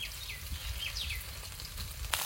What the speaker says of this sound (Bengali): রসুনগুলো একটু ভেজে নিয়েছি, এবার চিচিঙ্গাগুলো দিয়ে দেবো তেলের উপরে